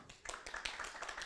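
A youth worship group in a church claps together in a short, quiet burst of scattered handclaps that ends almost as soon as it starts.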